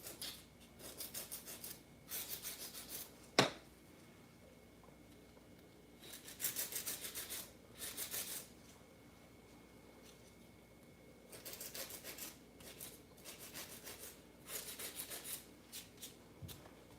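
Acrylic nails being filed during a full set, with short rhythmic bursts of faint, close rasping separated by pauses, plus one sharp tap.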